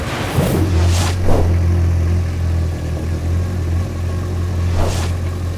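A personal watercraft engine runs steadily on a short test start for oil circulation, a continuous mid-pitched rumble close by, with a few brief bursts of hiss or noise over the idling drone and no talk.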